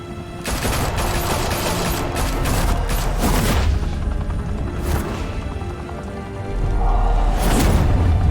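Gunfire in the Telltale Batman game: rapid bursts of shots and booms from several guns, loud and dense, with a heavier rumble near the end and no talk.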